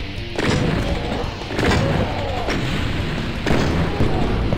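A shotgun fires in the game DOOM, heard as four loud, booming blasts roughly one second apart over a dense, noisy game soundtrack, with no talk.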